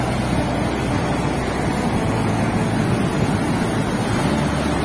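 Big sea waves surge steadily with wind buffeting the microphone, a loud continuous wash with no voices, heard while fishing from a boat.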